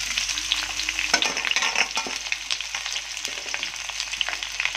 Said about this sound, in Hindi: देखिए प्याज है, काट लिए हैं, डाल दे रहे हैं।